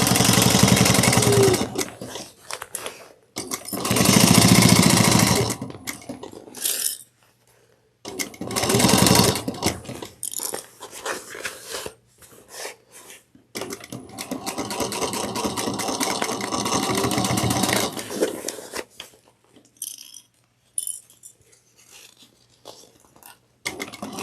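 A sewing machine back stitching over a seam while making a fabric tablet clutch, whirring in loud bursts of several seconds at a time with short pauses between runs, close up.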